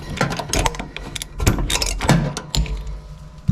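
A ratchet tightens an 11/16 nut on a car shock absorber, a Pontiac LeMans, giving quick uneven bursts of clicking with short pauses between strokes, close and fairly loud.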